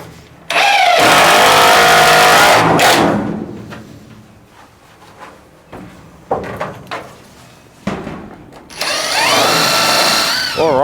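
A power drill drives screws straight into the pine frame of a Duratuf KL3 shed, loud close whirring bursts with a long run at the start and another near the end, separated by quieter handling knocks.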